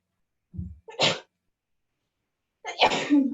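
A sneeze bursts out in a quiet room, a short intake followed by a sharp explosive burst, then a second louder sneeze after a pause; no talking.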